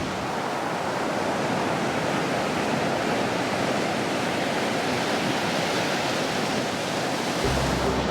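Waves washing steadily onto a beach in Spain, a continuous broad rushing roar with no distinct breaks, fairly loud and alone.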